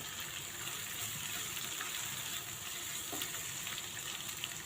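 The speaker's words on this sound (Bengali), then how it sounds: "মশলাটাকে কষিয়ে নিব ভালো করে" Ginger-garlic-onion masala with turmeric, chili powder and sliced green chilies sautéing in oil, a steady, even, fairly quiet hiss of frying with no clear stirring strokes.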